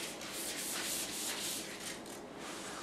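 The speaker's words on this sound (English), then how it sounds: "we're just gonna lightly sand this" Homemade clayboard is sanded lightly by hand, giving a soft, continuous scratchy rubbing with gentle rhythmic strokes, close but quiet, with no talking.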